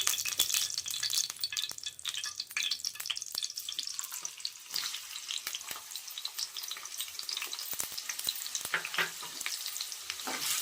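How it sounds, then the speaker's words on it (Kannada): Finely chopped onions frying in hot oil, giving a steady crackling sizzle throughout, with scattered sharp pops and occasional light utensil clicks, close and continuous without any talking. "ಈರುಳ್ಳಿ ಸ್ವಲ್ಪ ಫ್ರೈ ಮಾಡೋಣ"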